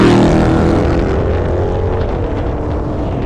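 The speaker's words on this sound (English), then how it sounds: "Listen to that supercharger whine." A Dodge Hellcat and its supercharger whine through a loud street blow-by, with dense, roaring engine and exhaust noise holding close and steady throughout, fading only slightly toward the end.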